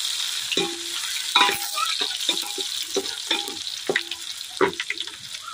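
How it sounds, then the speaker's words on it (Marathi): Crushed garlic and ginger sizzle in hot tempering oil for a fish curry, a close, steady crackle punctuated by sharp pops and the scrape of stirring. "त्यासाठी लसूण, आलं, फोडणीला टाकायचं।"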